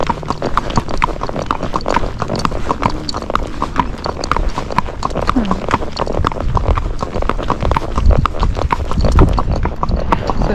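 A trotty Tennessee Walking Horse being ridden, its hooves clip-clopping in a steady, quick rhythm close by, with occasional faint creaks and rustles of tack.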